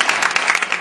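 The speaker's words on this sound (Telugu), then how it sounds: "దేవునికి చప్పట్లు కొట్టి దేవునికి" A church congregation claps together during a service, a dense, steady patter of many hands heard close for a brief burst.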